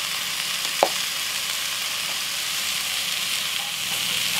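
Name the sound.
tomato paste sizzling in Dutch oven on gas grill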